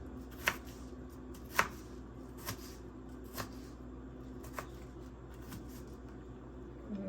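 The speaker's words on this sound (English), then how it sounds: "I just happen, I guess, to be cutting them a little bit smaller today" A knife chopping food into small pieces on a cutting board, a handful of crisp separate knocks spaced about a second apart, close and fairly quiet, with no talking.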